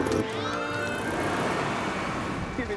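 A little ginger street cat meows in a film trailer, a short drawn-out cry rising and falling over a dense mix of background sound and music.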